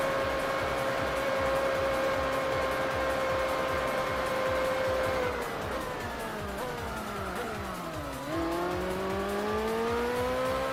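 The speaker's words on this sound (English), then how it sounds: "this car does go full vacuum cleaner at full speed" A BMW race car in Gran Turismo 4 at the Nürburgring 24 Hours holds a steady, loud, high engine whine at full speed, then dips and climbs through a couple of shifts, with a buzzing vacuum-cleaner-like tone throughout.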